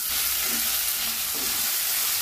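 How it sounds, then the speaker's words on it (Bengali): Soaked Gobindobhog rice frying with spices in a pan, a steady loud sizzle with faint scraping stirs under it. "এরপর গোবিন্দভোগ চাল দিয়ে ভালো করে ফ্রাই করতে হবে"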